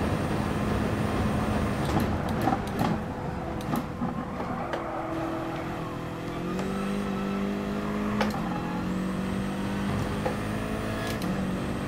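A race car in GT Sport pulls into the pits, its engine droning and shifting pitch as it slows down the pit lane, with brief mechanical clunks and whirs along the way.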